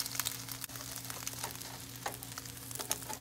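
An egg sandwich with Oaxaca cheese, yellow cheese and bacon fries in a pan with a steady, quiet sizzle and light popping crackles, heard alone and unbroken.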